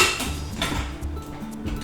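A metal pressure cooker lid being fitted and closed over tomato soup ingredients in a kitchen, giving a few clanking, rattling metallic knocks close up, with no talking.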